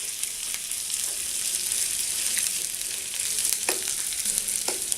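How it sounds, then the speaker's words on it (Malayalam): Small shallots sauté in a pan with a steady broadband sizzle, broken by a few soft scraping strokes of a spoon, close and fairly loud with no talking. "ഇതൊന്ന് ചെറുതായിട്ട് വഴറ്റി കൊടുക്കുക"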